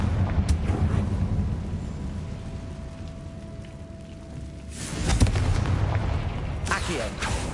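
A Confringo fire spell explodes in Hogwarts Legacy, a booming burst with rumbling crackle near the middle, followed by another sharp blast, over a low ambient game rumble.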